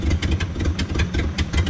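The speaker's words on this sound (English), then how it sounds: "it will idle for a little bit and then just starts loading up and chopping" Ford truck engine idling roughly with a pronounced cam chop, an uneven lumpy pulsing close by that repeats unsteadily.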